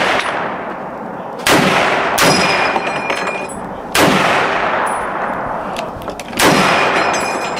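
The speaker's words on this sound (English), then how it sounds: "Hear that clip fly out?" A BAR rifle firing in an outdoor setting: three loud, sharp gunshot blasts spaced a couple of seconds apart, each trailing into a long ringing echo, with metallic clinks of ejected parts in between.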